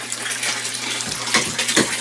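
Water pours steadily into an aquaponic grow bed that is only partly filled with media, a close, continuous splashing gush with a couple of louder surges near the end.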